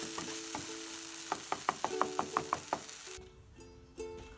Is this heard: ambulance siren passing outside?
no